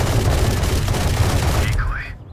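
Gunfire in the video game Valorant, a dense loud burst of rapid shots lasting about two seconds before cutting off.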